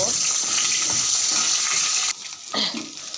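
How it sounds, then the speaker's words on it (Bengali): Potatoes sizzle loudly in hot oil, then the hiss drops off abruptly and a few softer clatters and splashes follow. "এবার আলুগুলো আমি ভেজে নেব।"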